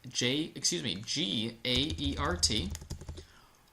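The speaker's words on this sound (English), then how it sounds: "All I'm going to do is start typing it in." Keys click on a computer keyboard in quick bursts while a person talks over the typing.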